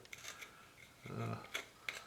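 Scissors make a few soft snipping sounds, short and close, with a rubbing scrape in between and no talking.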